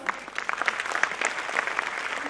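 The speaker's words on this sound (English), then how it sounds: "Can we have a huge round of applause?" Applause at a preschool annual day as the chief guest is honoured, a continuous crowd clapping heard at a moderate distance and fairly soft, with scattered individual claps standing out.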